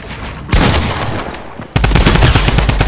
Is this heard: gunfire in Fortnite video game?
yes